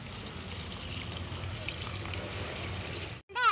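Water is poured from close by onto a small potted karpooravalli plant, making a steady, soft trickle that runs evenly and then stops abruptly near the end.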